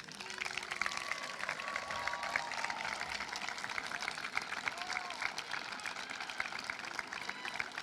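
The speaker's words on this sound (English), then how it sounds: "give them a big round of applause for everything that they've done for you" High school graduates at a commencement stand and applaud their parents, a broad, fairly faint wash of crowd clapping with scattered voices and cheers mixed in.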